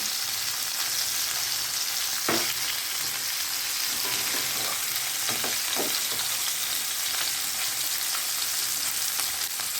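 Singi fish frying in a pan, giving a steady, close sizzle that runs the whole time, broken by a few light utensil clinks as the pieces are turned.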